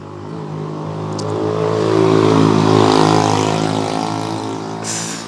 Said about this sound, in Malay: korang boleh dengar ada motor